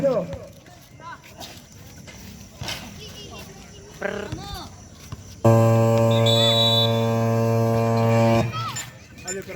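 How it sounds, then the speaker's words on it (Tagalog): A loud, sustained game buzzer marking the end of the third quarter blares for about three seconds after a stretch of crowd noise and talk, then cuts off. "Buzzer na lang po, marinig nyo"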